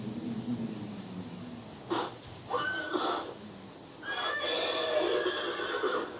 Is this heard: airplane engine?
no